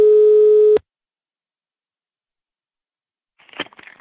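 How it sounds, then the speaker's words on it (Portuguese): A telephone line tone sounds as a prank call to a woman is placed during a Brazilian radio show, one steady tone lasting under a second, then silence and a voice at the end. "vou ligar agora pra Vânia, no grau, só pra dar o grau"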